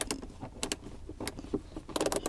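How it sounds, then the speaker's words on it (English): A ratcheting screwdriver backs a screw out of the instrument cluster of a 2003 Hyundai, with rapid, close clicking ratchet pulses in uneven bursts throughout. "show you how that works with my ratcheting screwdriver"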